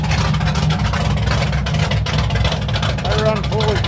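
A 1986 Ford Mustang GT idling warm-up after a cold start in cold weather, running full 2.5-inch exhaust with no mufflers, gives a steady low rumble throughout, with a person talking over it.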